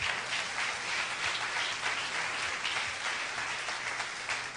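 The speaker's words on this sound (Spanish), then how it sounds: "Den un aplauso al Señor." Church congregation applauding during a sermon, a continuous crowd of clapping hands that stays fairly loud and even throughout, with no speech on top.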